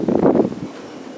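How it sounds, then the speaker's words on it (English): Strong wind of about 40 mph roars across a skyscraper roof, a close, low rumbling gust that swells briefly and then fades, with no talking. "shit is it windy."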